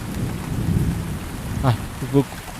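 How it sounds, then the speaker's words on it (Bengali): Steady heavy rain pours down over paddy fields at night in a dense wash of noise, with a couple of brief tonal calls rising near the end. "ঝমঝমিয়ে বৃষ্টি পড়ছে"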